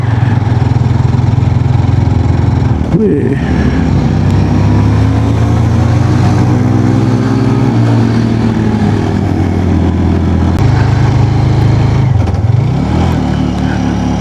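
Many motorcycles are on a steep mountain track leading down to Umbrella Waterfall near Naran, Pakistan. Loud, close engines drone and rumble continuously, with the pitch rising and falling as bikes pass.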